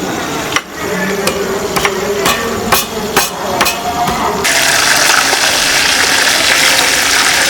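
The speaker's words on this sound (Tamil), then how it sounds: "இப்போ நம்ம கொஞ்சம் பூண்டு, அப்புறம் இந்த இஞ்சி சதைச்சு எடுப்போம்." Garlic and ginger are pounded to a paste for a traditional tuna fish pickle. About eight sharp, close thuds land at an uneven rhythm, then give way to a steady rushing, water-like hiss, with no voices.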